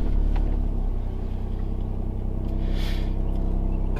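A Ford Fiesta MK8 ST engine idles on a cold start, a steady low rumble with an even throb and no revving, close and continuous throughout.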